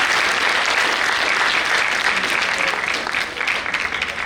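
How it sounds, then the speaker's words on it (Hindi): Steady, dense applause from a large crowd, loud and continuous throughout with no talking over it. "मैं एक बार चाहूंगा दोबारा एक बार जोरदार तालियों से"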